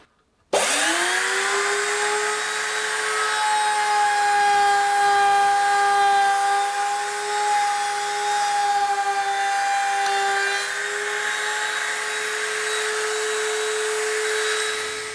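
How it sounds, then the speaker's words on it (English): Wood router on a 1939 Hudson wooden steering wheel build, shaping a radius in the wood: one steady, loud high-pitched whine running continuously after a sharp start, with no talk. "Let me switch the router on and we see how it goes."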